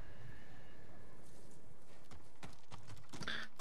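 Horses clip-clop in the video game Ghost of Tsushima. Faint ambience gives way to a run of sharp hoof strikes over the final second and a half.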